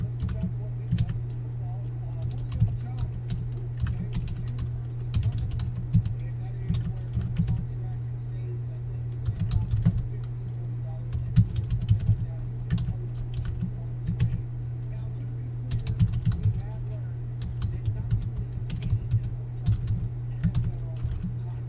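Computer keyboard keys clatter in irregular bursts of quick clicks through a live stream, close and moderately loud over a steady low hum, pausing and resuming throughout.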